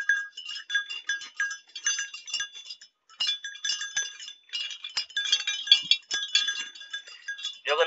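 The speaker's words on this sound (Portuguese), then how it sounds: "Olha as ovelhas dele aqui, ó." Several sheep bleat in high, overlapping calls, mixed with light clinking sounds, fairly close by, on a farm.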